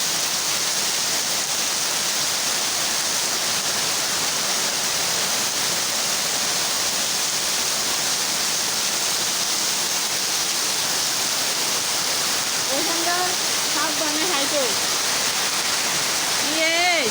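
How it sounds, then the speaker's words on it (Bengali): Heavy rain pours down in a dense, constant roar, loud and unbroken, with a voice speaking briefly near the end. "বৃষ্টি নামছে বাপরে বাপ দেখেন কি পরিমাণ বৃষ্টি"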